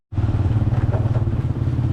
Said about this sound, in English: here I go on the back of a motorcycle again